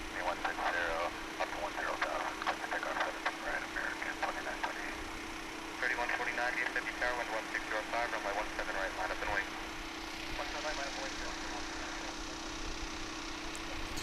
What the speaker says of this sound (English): A321 now beginning its journey to La La Land